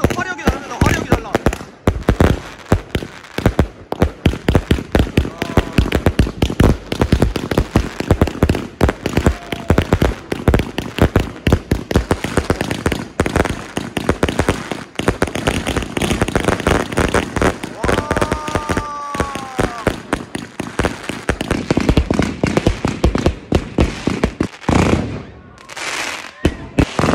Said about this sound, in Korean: 오늘 산 것 중에 제일 큰 거 시작합니다 제일 큰 거 와 벌써 화력이 다릅니다